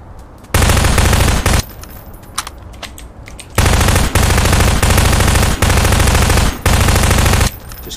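Bursts of rapid automatic gunfire in a video game, aimed at a T-Rex, come loud and close in long sustained volleys separated by short pauses and a few single shots.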